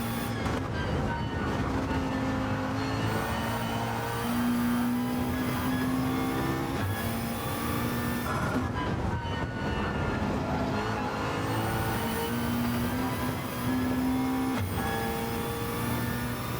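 A race car lapping Monza in a racing video game, its engine loud and close throughout, revving up through the gears with repeated rising pitch sweeps and brief drops at each shift.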